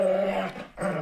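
A dog growls low and steadily at close range, pausing briefly before the rumbling resumes, with no talking over it.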